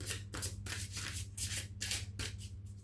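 Cards shuffled for a French astrology-sign card reading, a rhythmic series of soft riffling bursts, about seven in three seconds, close and clear with no talking.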